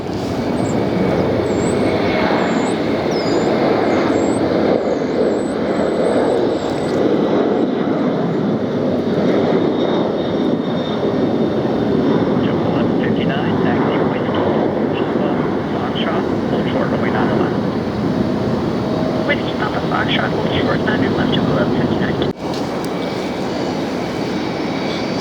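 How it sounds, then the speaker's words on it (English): Jet airliner taking off at Philadelphia airport, heard as a steady, loud engine roar that holds for the whole stretch, with faint bird chirps early on and no talk. "It's going to be a light takeoff, I believe."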